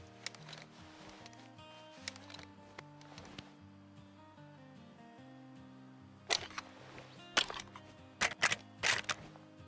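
Bolt of a rifle in the Way of the Hunter hunting game being worked, several sharp metallic clacks bunched near the end over a steady low musical background, with softer handling clicks earlier.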